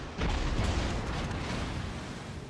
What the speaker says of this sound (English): But here you'll see a nice torpedo strike.